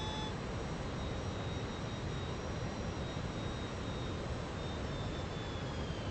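Steady, loud roar of Fokker F28 jet engines during a landing approach in Microsoft Flight Simulator, a constant broadband whine with faint tonal beeps, no talk.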